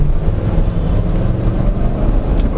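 A 2023 Chevrolet Tahoe Z71 with a 10-speed automatic accelerates. Its engine gives a loud, steady, deep rumble from inside the cabin, with no talking.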